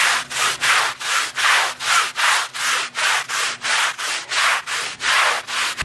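A stiff brush scrubs a mildewed area rug in quick, regular back-and-forth strokes, about two per second, each a loud rasping swish, with no talking.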